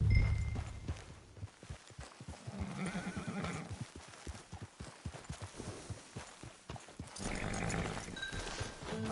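Horse hooves clip-clop in Red Dead Online, a steady run of sharp, evenly spaced hoofbeats close by, with a horse whinnying at the start and other game sounds in the background.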